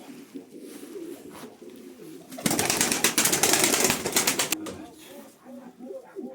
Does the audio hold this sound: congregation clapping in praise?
no